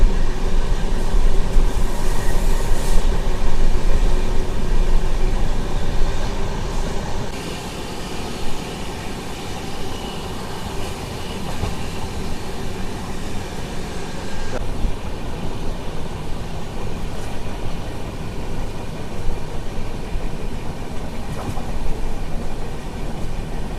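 Sabari SF Express train running on the Coimbatore to Palakkad route through hills, a loud continuous rumble and roar of carriages on the rails, steady for the whole stretch with no talk.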